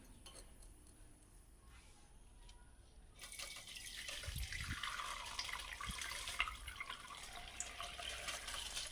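Homemade herbal hair oil strained through a filter, a quiet hiss of pouring liquid that starts about a third of the way in and runs steadily to the end, with a few soft clinks of the vessel.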